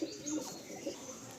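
Malwai pigeons in a Kolkata loft coo softly in short broken phrases, faint and somewhat distant against light background noise, with no one speaking.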